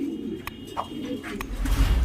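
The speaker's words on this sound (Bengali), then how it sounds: "কালদম কবুতর দেখেন, কবুতরের সাইজ দেখেন" Kaldom pigeons coo softly in a cage, low throaty murmurs close by with a few sharp clicks and rustles, rising in background rumble toward the end.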